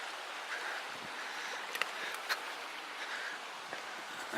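Water flows in the Twin Lakes outlet stream in the Desolation Wilderness, a soft continuous gurgling rush with a few faint splashy ticks, moderately distant and quiet, with no talking.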